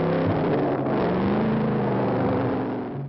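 A motorbike engine runs steadily and loud close by, then eases off slightly at the end as the bike pulls away.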